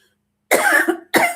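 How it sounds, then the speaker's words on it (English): Two close, harsh coughs from a person, the first longer and rasping, the second short, heard alone in a quiet room. "bypass the coughing"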